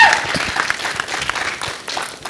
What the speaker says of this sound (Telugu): మీ చప్పట్లకు ఎప్పుడు దాసోహం నేను.